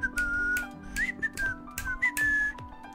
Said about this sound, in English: I don't know if you could hear the whistling.